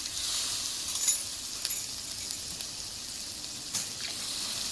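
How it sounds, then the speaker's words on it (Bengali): Water poured into a pan of spiced vegetables and taro in a home kitchen: a steady, fairly loud hissing rush with a faint sizzle beneath, continuous for several seconds with a few small splashes and no talk. "এবার আমি জল দিয়ে দেব"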